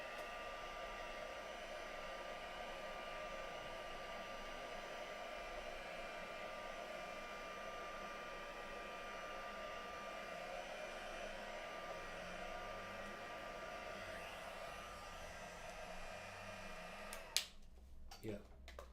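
A heat tool or hair dryer blows steadily to dry ink on dark cardstock during a crafting session, a continuous close whoosh that runs almost the whole time before a few clicks and knocks near the end.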